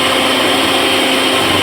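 A blender whirs steadily as it mixes an orange smoothie, a loud, even motor drone that holds without a break and has no talk over it.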